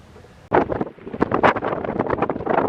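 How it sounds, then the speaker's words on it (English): Gusty wind buffets the microphone outdoors in Texas in loud, irregular rumbling bursts, close and blustery. "Burr! It's windy."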